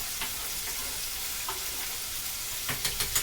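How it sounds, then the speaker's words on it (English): Chicken frying in a pan on the stove, a steady close sizzle and crackle with a few sharper pops near the end, no talking over it. "that chicken is frying up real good"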